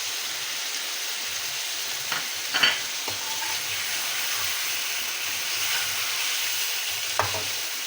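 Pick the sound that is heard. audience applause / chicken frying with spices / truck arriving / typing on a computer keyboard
chicken frying with spices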